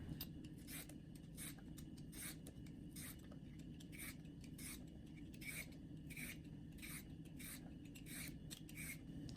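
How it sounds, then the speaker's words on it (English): Peeler scraping along a fresh cucumber in a home kitchen, a series of quick, faint rasping strokes in a steady rhythm over a low background hum. "Now let's begin peeling this cucumber."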